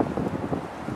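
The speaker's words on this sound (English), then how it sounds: "It gets pretty windy around here" Steady gusty wind blowing outdoors around a home deck, a continuous low rushing buffet with some microphone rumble, no voices.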